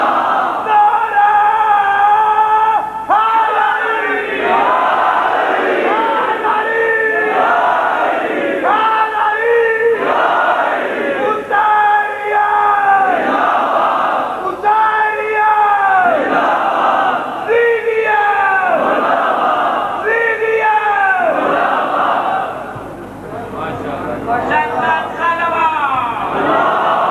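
A crowd at a Shia majlis gathering loudly shouts religious slogans in repeated call-and-response bursts, voices swelling in rhythmic waves for nearly the whole stretch before briefly dipping near the end.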